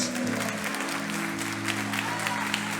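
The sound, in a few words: audience applause in church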